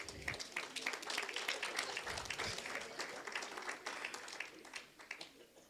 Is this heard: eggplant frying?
no